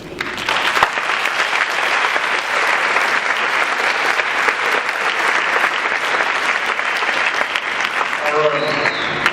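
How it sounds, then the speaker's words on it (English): Sustained applause from a large audience at a high school band spring concert, dense steady clapping throughout that thins slightly near the end. "I'd like to give a hand and a round of applause to all the parents"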